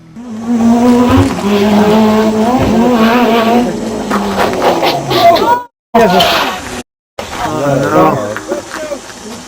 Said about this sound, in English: his attempt on the final run ended in a spectacular crash after he clipped a rock on the inside of one of the Burns' treacherous corners